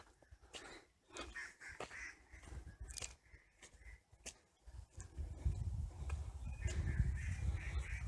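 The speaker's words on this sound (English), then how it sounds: "listening to all the cool birds around" Several birds call near a Kathmandu-area hiking trail on the Kattike Bhanjyang to Jarsing Pauwa route, sharp scattered chirps and cries at moderate distance over a rising low rumble of breeze.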